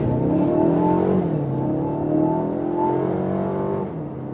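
A powerful twin-turbo V8 car engine roars loudly as it accelerates hard, its pitch climbing and dipping with gear changes in a steady, continuous rush.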